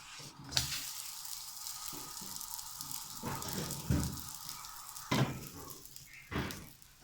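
Mutabbaq flatbread sizzles in an oiled pan after being flipped, a steady close frying hiss with a few louder crackling bursts and faint utensil sounds, no talking.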